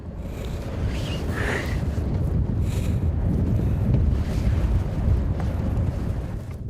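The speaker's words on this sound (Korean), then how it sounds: "거센 파도에 배가 제멋대로 움직여 더 힘이 든다." Strong wind roars around a small fishing boat on rough waves, a loud continuous rumble with microphone buffeting and no one speaking.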